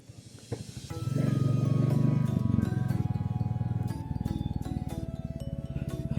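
A Royal Enfield Bullet 350cc motorcycle rolls downhill on a hilly gap road under engine braking, its low, thumping exhaust pulsing steadily and close, the rumble swelling then easing to a steady throb.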